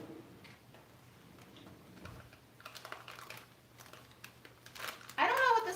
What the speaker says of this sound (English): I think I have to cut it.